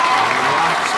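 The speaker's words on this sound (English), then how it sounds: "Clare crowd applaud" A raucous Clare crowd at an All-Ireland 40x20 men's doubles handball final applauds in a steady, dense burst of clapping that fills the short moment.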